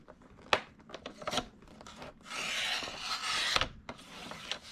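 A planner notepad insert is trimmed by 1/8 inch at a time, producing close paper rasps, sharp cutting snips and a longer scraping rub in the middle.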